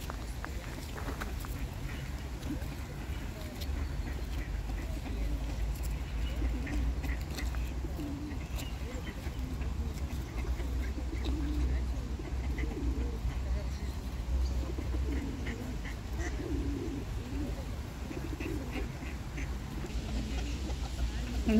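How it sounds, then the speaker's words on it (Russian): Pigeons coo softly and repeatedly beside a river in a park while women feed them and ducks. The cooing sits over a continuous low outdoor rumble, and faint voices can be heard now and then. "Женщины кормят голубей"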